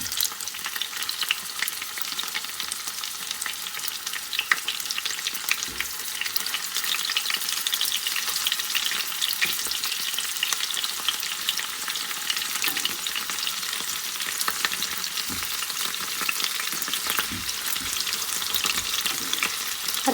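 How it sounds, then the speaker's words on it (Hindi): Chicken gilafi kebabs frying over medium heat in a pan, a dense continuous sizzle with occasional soft stirring clicks, close and steady for the whole stretch with no talking. "दरमियानी आंच पर, बहुत तेज़ आंच पर फ्राई नहीं करेंगे और गोल्डन ब्राउन करेंगे सारी साइड से"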